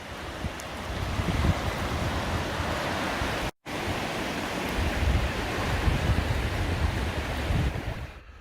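A high, swollen river rushes past in a constant loud broadband roar, with one very brief dropout partway through.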